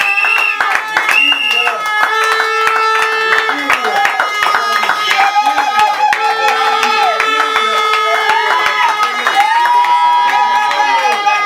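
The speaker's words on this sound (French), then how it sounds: "Et cela sera fait sous vos applaudissements," At a civil wedding, guests clap rhythmically as the couple makes their entrance. The clapping is loud and steady, with crowd noise and voices mixed in, and sustained sung or tonal sounds ring over it throughout.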